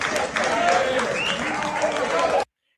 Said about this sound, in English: And look at them clapping.